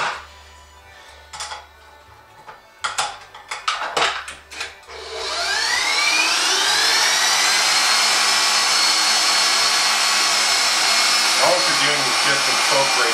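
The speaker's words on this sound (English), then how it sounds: "put that on the mixer." Electric stand mixer whipping chocolate mousse, starting after a few seconds of clattering and handling noises, then a steady, loud, high whirring hum that runs alone to the end.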